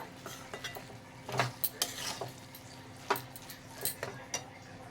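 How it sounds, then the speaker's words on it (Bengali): Cabbage and egg are stirred in a pan with a utensil, producing soft, irregular scrapes and clinks against the metal over a faint sizzle, fairly close and quiet. "দিয়ে আবারও ভালো করে নাড়িয়ে নেব"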